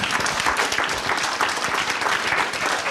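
Dense, loud applause fills the room at a court graduation ceremony, steady clapping from a nearby crowd throughout.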